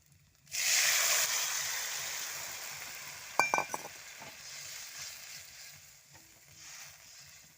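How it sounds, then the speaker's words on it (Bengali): Chana dal poured into a hot pan bursts into loud sizzling that slowly settles, broken midway by a few bright clinks of a utensil against the pan. "এবারে ডালটা ঢেলে দেবো।"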